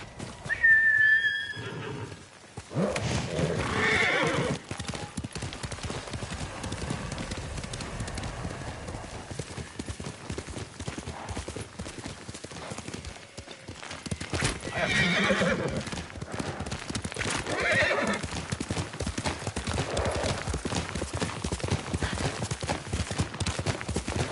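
A horse neighs near the start, followed by steady clip-clopping hooves over a busy, rumbling background, with a second whinny later, in the video game Ghost of Tsushima.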